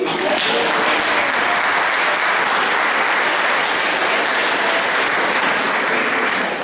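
A chapel congregation at a Saint Nicolas pardon ceremony applauds itself, a dense, steady wash of clapping from many hands that fills the room without a break.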